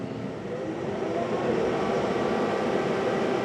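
A Wacker Neuson compact track loader skid steer engine revving up to high throttle, a steady, fairly loud droning hum with a smooth tone that swells slightly after the first half second and then holds even, with no voices.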